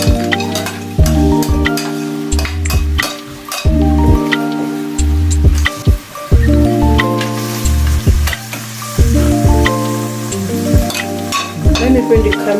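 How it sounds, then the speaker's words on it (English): Onions, carrots and peas sizzle loudly in a frying pan while being stirred for a German noodle bake, a steady hiss broken by brief pauses and scraping. "I'll go ahead and add in my onions,"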